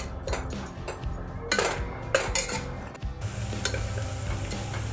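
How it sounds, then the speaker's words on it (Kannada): Sliced onions fry in a pan for chicken bhuna masala while being stirred, steady sizzling under repeated scraping and clinking of a utensil against the pan. "ಬಣ್ಣ ಬರೋವರೆಗೂ ಕೂಡ ಈ ಈರುಳ್ಳಿ ಈರುಳ್ಳಿನ ನಾವು ಫ್ರೈ ಮಾಡ್ಕೋಬೇಕು"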